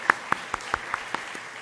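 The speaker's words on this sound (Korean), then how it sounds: "박수로 격려하겠습니다." Congregation in a church giving slow, sparse applause, about seven distinct claps spaced evenly over less than two seconds, fairly faint and without talk.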